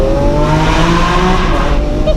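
A Lamborghini Aventador V12 revving hard on the throttle, a loud, sustained high-pitched engine roar that rises and falls steadily, close and dominant throughout.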